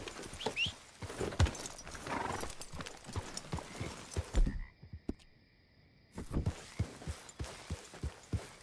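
Rhythmic horse hoofbeats clip-clop steadily in the video game Red Dead Redemption 2. A sharp croaking call cuts in, and after a brief electronic-sounding pause the hooves resume.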